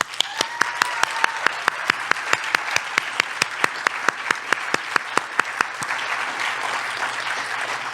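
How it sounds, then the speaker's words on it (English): An audience at a state poetry recitation final claps for the finalists, a dense, steady round of applause with sharp individual claps that continues loudly for several seconds, no voices heard. "let's give our finalists a big round of applause"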